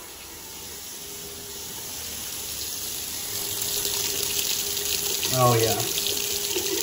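Water from a faucet runs steadily into a vanity sink and down the drain, a continuous close hiss that slowly swells, with a brief spoken remark near the end.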